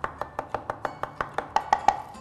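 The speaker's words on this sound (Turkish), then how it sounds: "şöyle bir veya da iki diş sarımsağımızı" A knife chops garlic cloves finely on a cutting board in a kitchen, about a dozen crisp, evenly spaced close-up taps with no talking.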